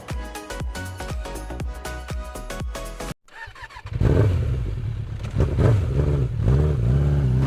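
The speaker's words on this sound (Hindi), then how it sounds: "माँ की बात सुने बिना बाइक लेकर निकल पड़ा" A motorcycle engine starts with a short gap, then revs up and pulls away loudly and close by, the rising engine drone continuing over rhythmic background music.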